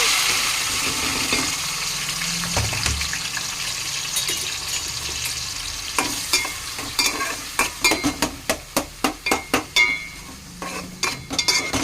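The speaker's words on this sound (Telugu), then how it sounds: "ఇప్పుడైతే ఉల్లిపాయలు ఇంకా టమాటాలు పచ్చిమిర్చి అయితే వేసేసుకుంటున్నాను" Onions, tomatoes and green chillies fry in hot oil with curry leaves and turmeric for a village-style cauliflower and chana dal curry: a steady sizzle, then a run of rapid, rhythmic spatula scrapes against the pan, close up and with no speech.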